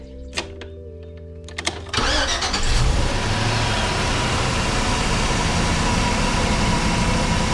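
A large bus engine cranks briefly and then catches, settling into a loud, steady, rumbling idle that runs on without voices.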